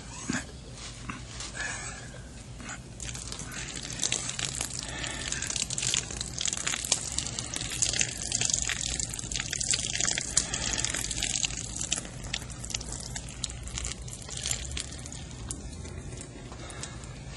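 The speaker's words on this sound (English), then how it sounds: "Just enough so I can tip it freely to keep the pouring rate continuous." Soup pours steadily from a tipped can as a radio drama sound effect, a continuous wet gushing that stays fairly even and close for the whole stretch, with no voices.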